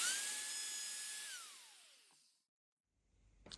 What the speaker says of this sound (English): we've now cut out the basic shape with the router, and we have our beveled edge on there as well